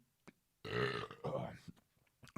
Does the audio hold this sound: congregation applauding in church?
no